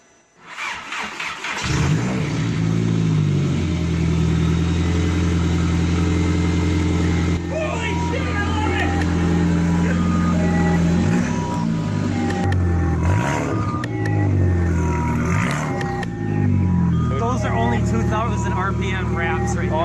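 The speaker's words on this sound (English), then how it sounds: "We're going to set it down, try and fire it up, see what she's got." A 1.8T Volkswagen GTI with a custom 3-inch straight-pipe turboback exhaust cranks, fires up and settles into a loud, raspy idle with a few blips of revving, while people talk nearby.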